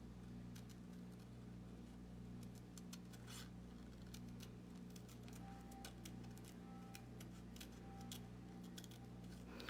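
Scissors snipping around stamped paper pieces, faint repeated crisp cuts in irregular bursts over a constant low background hum.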